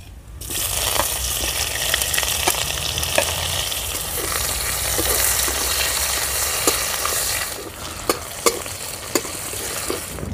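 Chopped onions hiss and sizzle loudly in hot oil with bay leaf, dried chilli and cumin while cooking a village-style fish curry, a steady frying roar broken by sharp stirring clacks, easing near the end.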